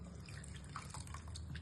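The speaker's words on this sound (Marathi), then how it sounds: "स्क्वीज केल्यानंतर स्वच्छ पाण्यामध्ये पुन्हा तो डिप करा." A beauty blender makeup sponge is dipped and squeezed in clean water, giving faint, close drips and soft trickling that run steadily through the short moment.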